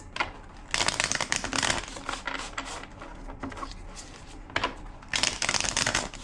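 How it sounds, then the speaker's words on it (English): A deck of tarot cards being shuffled by hand in several quick riffling bursts separated by short pauses, crisp and close with no talking. "2 more shuffles."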